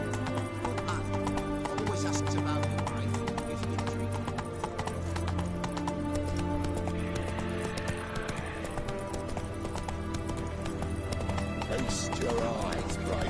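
Hoofbeats of Roach, Geralt's horse in The Witcher 3: Hearts of Stone, clip-clop steadily at a gallop over a dense game music bed, with occasional whinnies and voices talking over it throughout.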